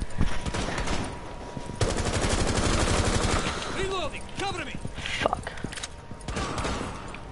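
Rapid automatic gunfire in a live-streamed shooter video game, dense bursts of shots that pause and resume, with players talking over the action.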